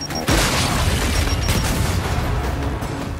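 A frag grenade detonates in Gears 5 Horde mode with a loud booming blast, followed by a sustained rumbling roar of continuous combat noise.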